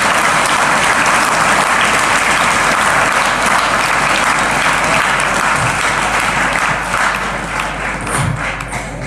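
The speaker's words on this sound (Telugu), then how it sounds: "పడాలనుకున్న వాళ్ళు గట్టిగా చప్పట్లు కొట్టండి" A large audience at a motivational speech applauds loudly and steadily, dense clapping filling the whole stretch and easing slightly toward the end.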